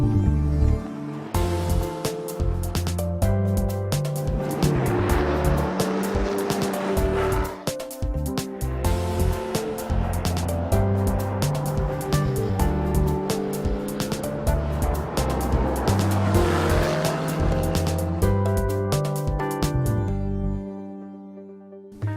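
A 2012 Porsche 911 Carrera S (991) drives hard with its engine revving up and down through gears and tires squealing, loud and close throughout before cutting off near the end.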